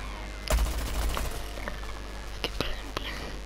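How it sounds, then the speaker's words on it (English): A video game Gatling gun fires in sharp bursts of rapid shots. The volleys arrive unevenly, near and crisp, against a low background with soft voices faintly underneath. "Yes, my Gatling gun."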